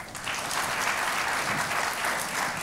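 Steady applause from a studio audience welcoming a panel guest at a youth violence discussion show, dense clapping rising quickly and holding at full strength for a couple of seconds without speech.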